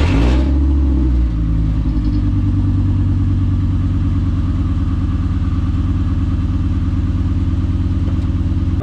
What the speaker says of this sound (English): put the battery in this car, get it running, get it turned around